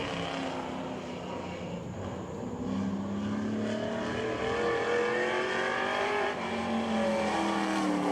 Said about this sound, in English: Jay Ryan gonna come around and put in lap number 1 for the 82 machine.